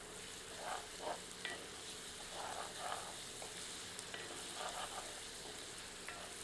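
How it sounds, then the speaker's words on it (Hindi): Mushroom curry being fried with ginger garlic paste over medium heat, a soft steady sizzle with occasional stirring scrapes, fairly quiet and without voices. "तत्पश्चात इसमें 1 टेबलस्पून अदरक लहसुन का मिश्रण सम्मिलित करते हैं। मिलाकर 2 मिनट मध्यम आंच पर भूनते हैं।"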